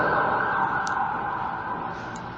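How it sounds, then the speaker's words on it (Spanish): An emergency vehicle siren wails loud and close in a steady sustained tone, slowly fading a little as it passes by a church gathering, with no talking over it. "Mientras pasa la sirena."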